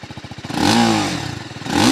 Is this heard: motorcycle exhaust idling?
yes